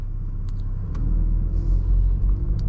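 A tuned 2023 VW Golf R MK8 pulls away from a stop, a deep engine rumble swelling louder after the first second, with faint clicks and brief higher noises above it.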